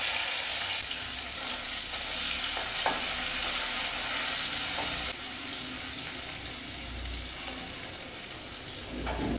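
Chopped garlic and diced large tomato frying in oil, a steady broadband sizzle with occasional stirring scrapes, no voices, hinting at running water at times.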